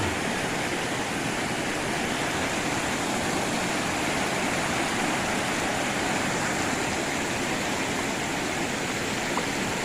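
A clear stream flowing through a village where people bathe: continuous dense broadband rushing water at steady loudness, close and unbroken, with no talking.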